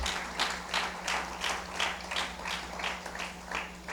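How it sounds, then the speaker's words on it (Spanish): A church congregation claps in a steady, even rhythm, about three claps per second, moderately close over a low electrical hum. "usted también dése un fuerte aplauso porque hoy está aquí en la casa del Señor"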